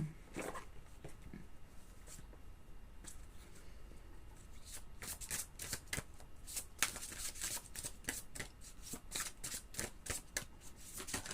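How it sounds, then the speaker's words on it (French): Oracle cards, from a luminous-energies deck, being shuffled close up in a long run of rapid riffling snaps and soft slides, steady and fairly quiet, with no speech over it. "on se prend une dernière carte de l'oracle des énergies lumineuses"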